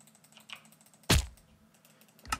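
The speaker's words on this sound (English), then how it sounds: "You guys might be able to hear my mouse click as well a lot in the background." A couple of sharp computer mouse clicks during Minecraft play, spaced apart, stand out against a quiet room background.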